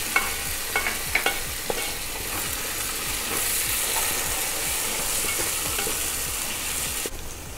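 Ground spice paste and tomato being sautéed in a pan for Kerala kappa biriyani produce a steady close sizzle, with several sharp spatula taps and scrapes early on.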